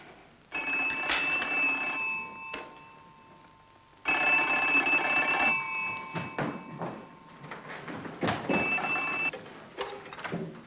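An old telephone bell ringing in insistent bursts, loud and close, with a pause between rings and some shuffling movement near the end.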